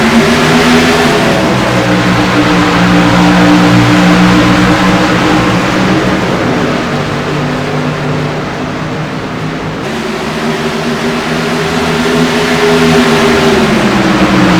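A pack of ICAR Cup race cars roar and accelerate at Texas Motor Speedway after the green flag, loud layered engine drones climbing in pitch, dipping briefly as the field passes, then rising again.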